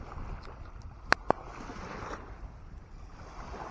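Sea waves wash in at Uddo beach in Goa as a steady, broad roar of surf and wind with no talking, broken by two sharp clicks close together near the middle.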